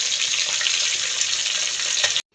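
Fish frying in oil gives a steady, dense sizzle with fine crackles and pops, loud and close, running unbroken for about two seconds before cutting off abruptly.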